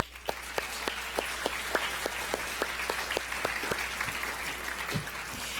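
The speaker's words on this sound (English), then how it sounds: "a round of applause for all educators who engage in Right for Rights as well" Applause at an awards ceremony, a small audience clapping in a quick, even rhythm, crisp distinct claps that thin out toward the end.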